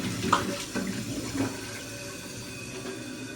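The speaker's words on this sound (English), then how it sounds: "I'll show you this flush too, which really isn't too different from the others" A 2010 Sterling Windham toilet flushing and refilling, a loud close rush of water with a gurgling start settling into a steady refill hiss, no talk.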